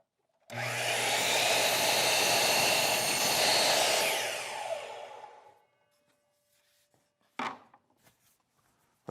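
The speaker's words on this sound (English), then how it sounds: "Now ready to cut the bottom right miter." A miter saw cuts a miter in window trim, a loud close whine lasting about four seconds that winds down, followed by a brief clunk as the cut piece is handled.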